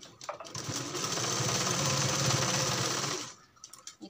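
A sewing machine stitches a back-neck blouse design in one continuous, close, steady run of about two and a half seconds, starting and stopping cleanly with light handling noise around it.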